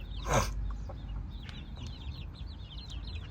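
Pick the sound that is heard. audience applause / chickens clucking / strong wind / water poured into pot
chickens clucking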